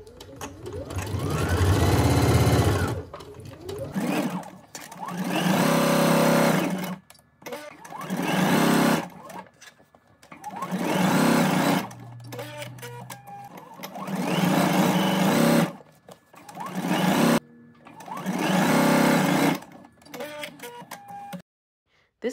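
Home sewing machine stitching fabric pieces together, running in loud close bursts of rapid mechanical whirring separated by short pauses, about seven runs in a row with no talk.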